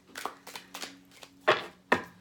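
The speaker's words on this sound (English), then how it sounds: "I'll split the deck." Tarot cards being split and tapped together on a surface, a series of about six distinct light slaps and snaps in uneven rhythm, close and fairly quiet, with the last two sharper and louder.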